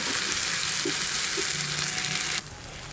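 A thick bottle gourd peel paste sizzles and crackles steadily in a hot frying pan as it is stirred, then the frying noise drops suddenly near the end.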